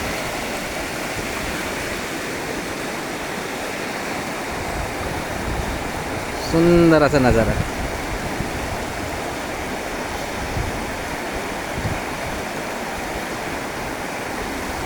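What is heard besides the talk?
waterfall streams in river near Mumbai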